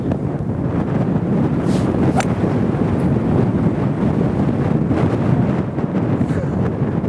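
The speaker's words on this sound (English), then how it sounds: "That wind is insane." Strong wind on a golf course buffeting the microphone, a loud continuous low roar with steady rumbling gusts throughout, no voices.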